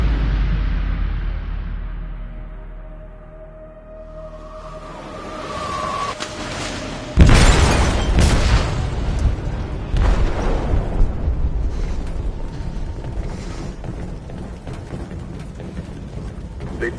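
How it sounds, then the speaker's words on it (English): A massive explosive blast tears through the hold of a ship in a PS4 video game, with a sudden loud boom followed by sustained rumbling, crashing debris and roaring destruction that continues to the end. "They detonated an explosive in the hold."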